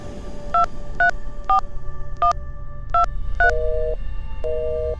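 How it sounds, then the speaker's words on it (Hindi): A landline telephone being dialed: about eight short, clear keypad tones in an uneven sequence, the last few held slightly longer, over a low background rumble. "फिर देव और दीपिका दोनों ऊपरी मंजिल पर गए और आखिरी कमरे में जाकर लैंडलाइन से मिंटू को फोन लगाने लगे।"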